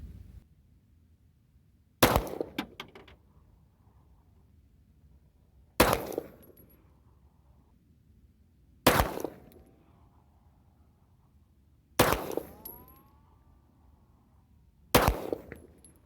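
An unsuppressed Glock pistol firing 9mm subsonic reloads loaded with 4.6 grains of Power Pistol powder, five sharp, loud reports spaced a few seconds apart, each ringing out briefly into quiet.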